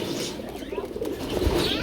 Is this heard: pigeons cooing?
yes